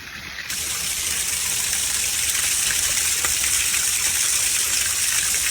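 Loud, steady roar of a waterfall pouring without a break, the cascade hiding a small eternal flame burning inside it; continuous broadband rush fills the whole stretch with no voices.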